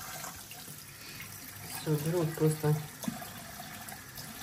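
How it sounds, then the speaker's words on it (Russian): Hot water running from a tap to soak a stain on clothing, a steady splashing stream under someone speaking Russian nearby. "теперь нам нужно замочить вот это вот пятно горячей водой"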